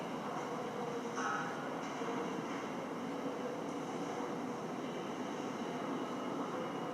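A steady rumbling train in the video game Star Citizen rolls along continuously, a low mechanical drone with faint higher squeals, no talking over it.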